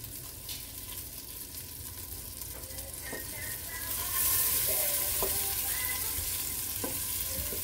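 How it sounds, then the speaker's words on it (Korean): Bacon sizzles in melted butter in a pot, a steady close frying crackle with occasional stirring scrapes and small pops, growing a bit louder partway through. "먼저 버터를 냄비에 넣고 녹이고 베이컨을 넣어서 같이 볶아줍니다."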